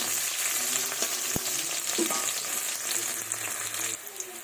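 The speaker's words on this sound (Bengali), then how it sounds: "পেঁয়াজগুলো আমার লাল লাল করে ভাজা হয়ে গেছে।" Chopped onions frying with five-spice in a pan for a fish curry give a continuous crackling sizzle, broken by a few sharp utensil taps and stirring scrapes, close and steady with no talk.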